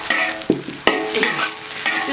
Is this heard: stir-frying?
yes